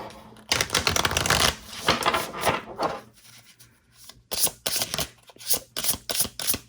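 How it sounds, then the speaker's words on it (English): Tarot cards riffled and shuffled in close, dense bursts, then a run of sharp separate snaps and flicks as cards are drawn and laid down one by one, with no talking. "Let's pull some more cards here and see"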